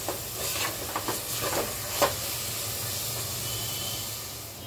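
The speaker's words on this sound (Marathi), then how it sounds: "हे मस्तपैकी असं परत एकदा मिक्स करून घेऊया आणि ह्याला 2 मिनिटं वाफ देऊया" Vegetable biryani is stirred in a pot with a few scraping strokes, then left to steam, settling into a steady soft hiss. No one speaks.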